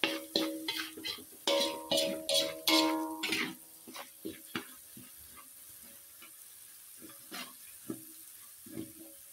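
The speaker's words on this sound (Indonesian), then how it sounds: "Kita tumis sampai dengan harum dan matang pemirsa." Candlenut spice paste sautéing in a pan, loud bursts of sizzling and scraping stirs early on, then quieter intermittent crackles and pan clicks as the frying settles.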